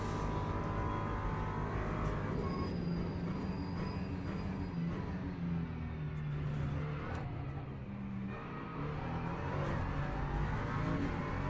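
A race car engine revs and drones in the sim racing game Le Mans Ultimate at Laguna Seca, with a continuous loud mechanical whine rising and falling under heavy throttle and no voices.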